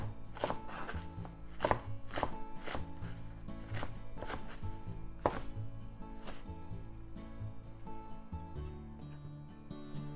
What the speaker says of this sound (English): Let's cut mizuna or any leafy vegetable you are using.